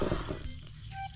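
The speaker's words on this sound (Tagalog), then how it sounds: "Pero mayroon pa rin tulo." Water trickles and splashes from a deep well discharge pipe in a faint, continuous flow that thins slightly toward the end, with no talking.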